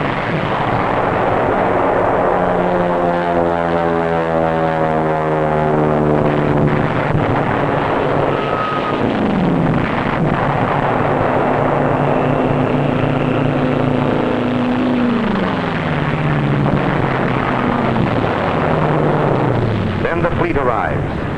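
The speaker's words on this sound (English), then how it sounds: "Enemy aircraft have been liquidated, and the dive bombers have it their own way." WWII dive bomber engines drone and whine loudly over an island under attack, with rising and falling propeller pitch and distant rumbling blasts, while a narrator talks over the roar.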